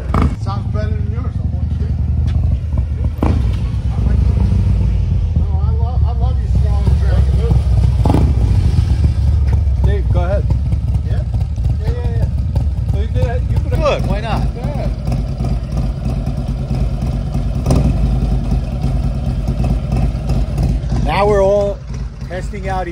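A motorcycle's aftermarket exhaust rumbles loudly and steadily with occasional revs, close by, while several people talk over it throughout.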